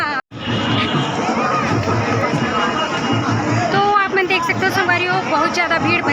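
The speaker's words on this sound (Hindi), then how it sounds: "बहुत ज़्यादा भीड़ बने हुए हैं" A large outdoor crowd at the Dahi Handi festival in Kabirdham, Chhattisgarh, fills the air with steady loud chatter and shouting, children's voices rising above the dense babble, with a speaker talking close over it.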